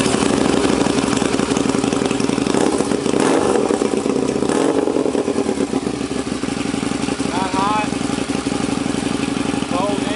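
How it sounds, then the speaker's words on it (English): A 2007 Harley-Davidson V-Rod motorcycle engine cranks up and settles into a loud, steady idle close to the mic, with a rumbling mechanical clatter throughout and a brief whine near the end. "Here's a little quick hit of the cranking up."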